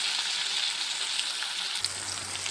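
Tomatoes cooking in a pan for a methi matar malai dish give a steady, close sizzle with a soft crackle that holds at an even level throughout, and no voices.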